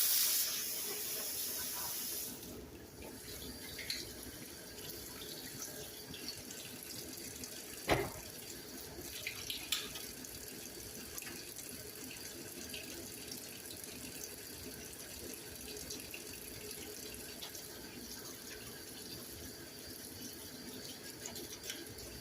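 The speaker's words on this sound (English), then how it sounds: "So let me wash my hands." Tap water runs steadily into a sink as hands are washed after mixing hamburger meat with onions and seasonings, a continuous soft hiss with a brief knock partway through.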